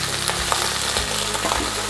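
Mint and coriander leaves sauté in a hot pan for chicken biryani, giving a steady, close crackling sizzle with small popping spits and a faint stirring scrape, no voices.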